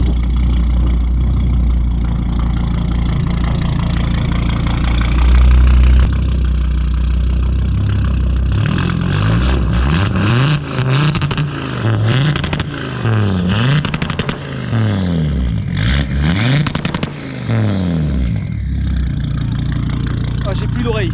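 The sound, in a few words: Audi RS3 stage 4 engine starting, idling and revving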